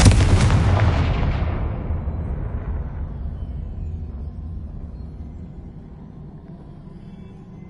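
A Confringo fire spell blasts in Hogwarts Legacy, a loud, close, booming burst at the start whose deep rumble slowly fades over several seconds.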